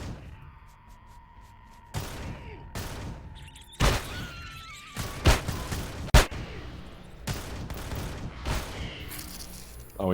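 Gauss shotgun fired in Empyrion, a series of sharp, loud blasts spaced a second or two apart, each with a crackling tail, among echoing game sounds.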